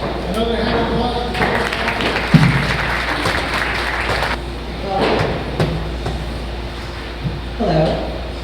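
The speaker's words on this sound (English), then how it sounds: "Another hand of applause" An audience applauds at a student pitch day event for an Arizona startup cohort, a steady wash of clapping in the middle stretch, with a voice speaking before and after it.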